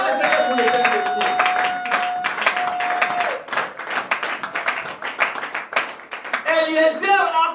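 A church congregation applauds in praise of the Lord, steady rhythmic clapping from many hands close by, mixed with voices and a sustained musical tone, thinning briefly midway before swelling again.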